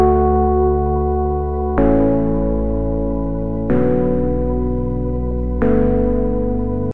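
A MIDI bass pattern plays the root notes of a chord progression. Three long, sustained low notes follow an initial tone, each struck roughly every two seconds and ringing out evenly with no voices.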